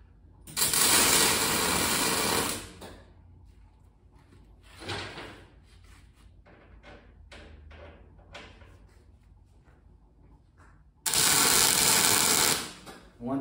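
Tack welds join legs onto a metal ladybug built from a water cup, giving two loud, steady buzzing bursts of a few seconds each, near and up close, with quieter clatter and handling sounds between them.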